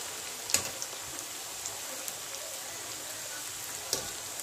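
A pan frying for egg biryani gives a faint, steady hiss and sizzle, close by, with a couple of sharp pops and small crackles scattered through.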